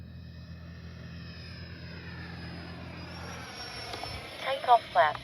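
A modded Freewing Yak 130 RC jet model flies overhead with a whining turbine-like tone that shifts in pitch as it passes, fading while a voice speaks briefly near the end.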